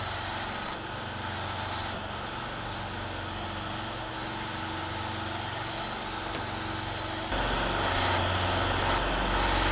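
Spray gun hissing steadily as paint goes onto the bonnet of a Mercedes-Benz C200 in a small spray booth, a continuous close airy rush with a booth fan droning underneath.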